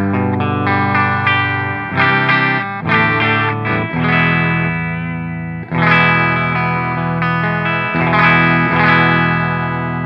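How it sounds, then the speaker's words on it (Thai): Clean electric guitar runs through a multi-effects unit set to bypass into a tube amp, ringing chords and arpeggiated notes that sustain and overlap, loud and close, with pauses between phrases and no voice. "เสียงคลีนของมัลติเอฟเฟกต์โดยไม่เปิดอะไรเลยนะเป็นเสียงบายพาสนั่นเอง"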